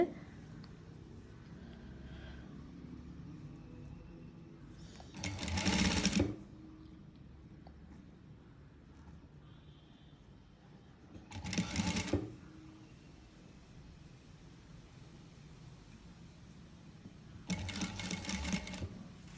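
A sewing machine stitches a back-open saree blouse in three short bursts of fast whirring, each about a second long, separated by quiet stretches of faint room noise.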